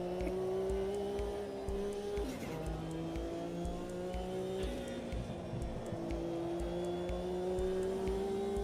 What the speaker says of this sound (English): Such a noisy wastegate on this turbo.